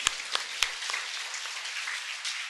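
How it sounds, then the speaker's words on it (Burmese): Audience applause at a church gathering, a faint wash of clapping from many hands with a few sharper claps near the start, steady for a couple of seconds without talk. "လက်ခုပ်တီးအောင်"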